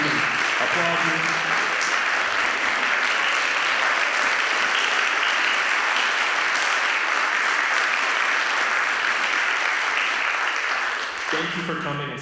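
An audience applauds alumni at a university choir's fall concert in Merkin Hall, a dense, steady wash of clapping that holds loud for about eleven seconds before thinning out at the end.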